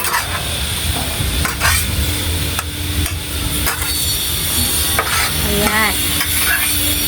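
Food stirred in a sizzling frying pan after black pepper is added, with repeated scraping strokes over a steady hiss and brief spoken words.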